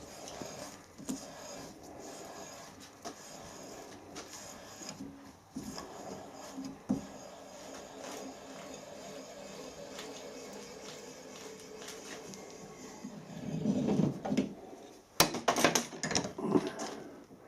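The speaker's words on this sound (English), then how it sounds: "This is a nice new die, it's cutting lovely threads." A new die cutting threads on square head bolts, a steady scraping, grinding metal sound with irregular clicks, growing louder and busier toward the end.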